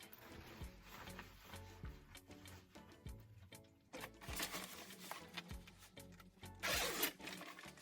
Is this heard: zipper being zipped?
yes